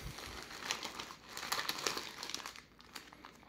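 A parcel of BioTechUSA sports nutrition samples from Ozon being opened, with crinkly plastic packaging crackling and rustling in close, uneven bursts for a few seconds, no talking.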